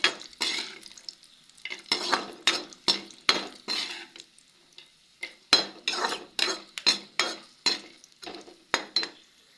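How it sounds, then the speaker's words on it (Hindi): Walnuts being roasted in leftover ghee in a pan, with a spoon repeatedly scraping and clinking against the metal in a steady rhythm of stirs, close and fairly loud, with brief pauses. "तो इस बचे वाले घी में इन अखरोट को भी भून लेंगे"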